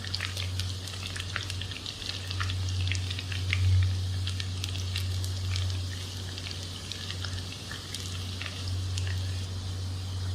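Potato donuts coated in rice flour fry in hot oil, giving a soft continuous sizzle with scattered crackles and pops over a low steady hum, close and even throughout.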